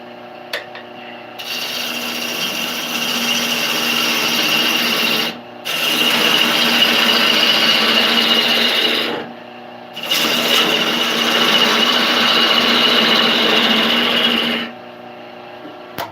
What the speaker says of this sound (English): I'm gonna take a little bit of wood off of here so I can get in and sand better.